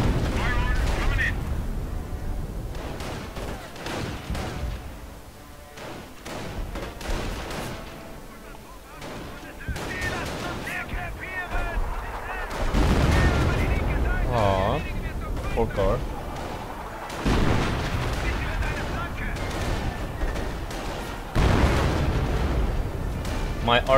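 Artillery in a Company of Heroes battle, loud booming impacts and rumbling blasts recurring throughout a long stretch, mixed with battlefield noise and spoken voices.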